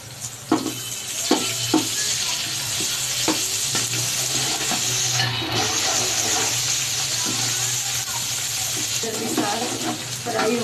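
Onions fry in a pan for chicken biryani as garlic ginger paste is added, giving a constant loud sizzle broken by scraping stirs and clinks of the spoon.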